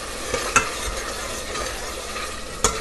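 Masala fries in oil in a pan for a ridge gourd (tori) curry, giving a steady close hiss with a couple of sharp clicks from the utensil.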